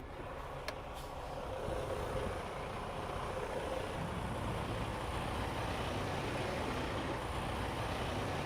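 Semi truck diesel engine idling steadily in the cab during an in-cab pre-trip inspection while air pressure builds, a constant low rumble with broadband hiss and no talk.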